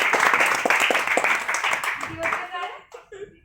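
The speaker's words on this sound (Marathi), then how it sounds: "वा, जोरदार टाळ्या." Live audience clapping and cheering at a Marathi stage show, a dense burst of applause that tapers off over a few seconds with voices mixed in.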